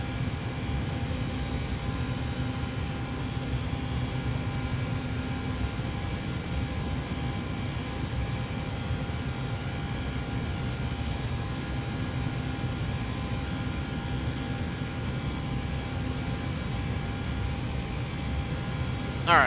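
Airliner cabin noise in the X-Plane 11 flight simulator flying the ToLiss A321, a loud, constant broadband roar with a steady low hum that runs unbroken throughout, with no talk.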